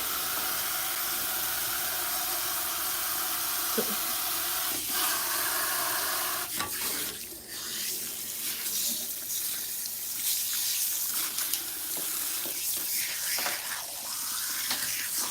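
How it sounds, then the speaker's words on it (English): Warm water streams from a salon sink tap, rinsing relaxer out of salt and pepper hair, a steady close hiss and splash that shifts and breaks up as the flow is moved through the hair. "when you rinse relaxers, guys, it's always warm water"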